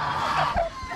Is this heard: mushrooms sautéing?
no